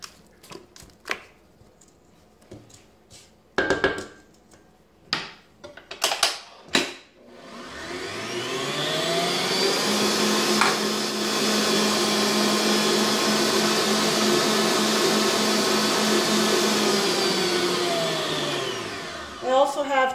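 An electric mixer beats eggs into batter for a drumstick dessert, starting with scraping and tapping against the bowl and then running as a loud steady whir for over ten seconds before winding down.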